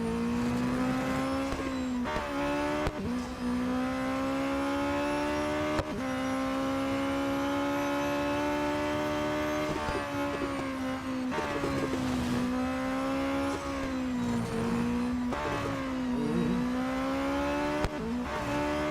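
A Radical SR10 XXR race car in Real Racing 3 screams at high revs while overtaking on a track day, with a loud, continuous engine whine broken by brief dips at gear shifts and no talk.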